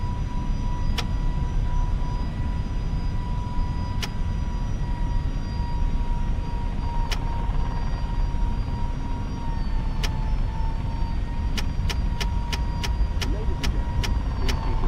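FSLabs Airbus A321neo engines at climb thrust in a flight simulator after departing Gatwick, a steady broadband roar that holds level throughout, with sharp periodic clicks and a faint tonal whine on top.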